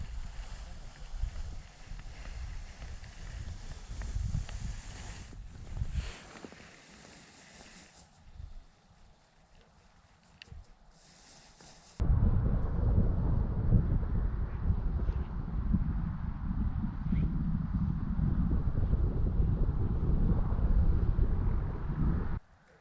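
Steady wind buffets the microphone outdoors during winter fishing, a rough low rumble that drops away midway, then returns louder and more constant.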